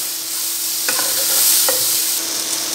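Chopped onions fry in hot oil with cumin and green chili, a loud, continuous close sizzle broken by a couple of sharp spoon-against-pan clinks as they are stirred.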